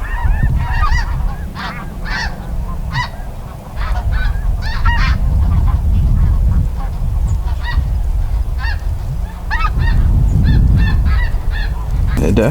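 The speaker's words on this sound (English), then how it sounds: "Is that refuge where these geese are going?" A flock of geese honks continuously overhead in an outdoor scouting area for ducks, loud overlapping calls with a rumble of wind or engine noise underneath.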